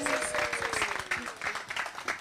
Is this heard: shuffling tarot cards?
no